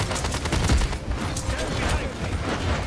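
Shotgun fire in the Paladins video game, a rapid run of overlapping blasts and bursts, loud and close at first, continuing busily under game noise.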